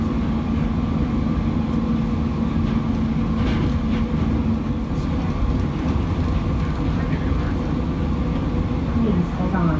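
An airport rail train runs steadily on its track toward a rental car center, a continuous close rumble and hum of wheels and motors heard from inside a carriage, with a faint voice briefly over it.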